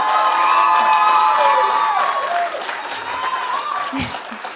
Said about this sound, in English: Yes, please clap for her.